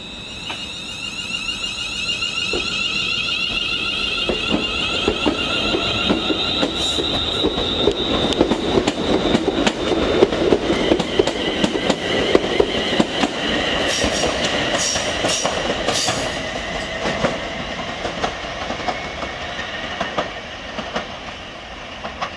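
A Class 350 electric multiple unit train at St Albans Abbey station on the Abbey Line, heard close and steady throughout, with rumbling wheels, high squealing tones and a few sharp metallic clanks.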